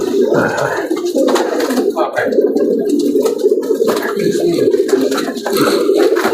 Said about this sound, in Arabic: هذه من الحمام الجديد